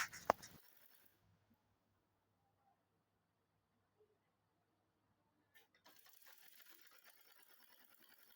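A sewing machine stitches fabric for a maxi dress. A sharp click opens a long near-silent stretch, then faint steady mechanical whirring runs from about midway to the end.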